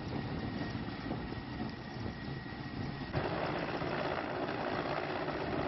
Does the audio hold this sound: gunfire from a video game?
no